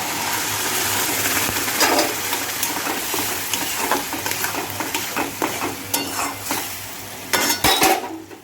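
Ground ridge gourd paste going into a pan of onions fried until reddish-brown; soft sizzling and frying under scraping stirs and clinks of a utensil against the pan, with a few sharper knocks near the end.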